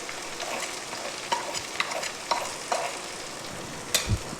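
Spices such as salt, chilli powder, turmeric and coriander powder being stirred into tender okra frying in a pan, a steady soft sizzle with scattered scraping stir strokes and a sharper clatter near the end.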